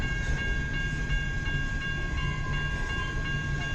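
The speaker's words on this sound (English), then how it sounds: "It's gotta be a CN B731 westbound train, all grain." A CN B731 westbound grain train of loaded cars thunders past nearby in Kimball Township, steady heavy rumble with repeated faint wheel clacks over the joints.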